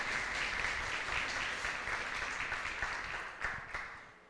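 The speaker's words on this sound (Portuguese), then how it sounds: "peço a elas 2 uma salva de palmas" An audience gives a round of applause for two teachers at a Christmas gathering, a sustained crowd clapping that stays fairly even before thinning out toward the end.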